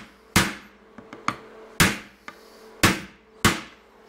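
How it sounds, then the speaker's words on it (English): A hammer strikes a steel punch to flatten a mount for a 1983 PolarKraft boat seat: four loud ringing blows spaced about a second apart, with lighter taps between, close up and free of talk. "I take this punch and drive her down really flat"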